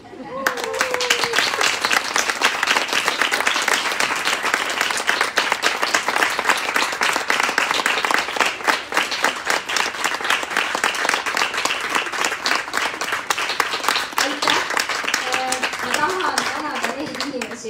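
Sustained ovation from an audience at a book launch for a poetry and art collection, dense continuous clapping at close range that holds steady for the full span, with some voices mixed in.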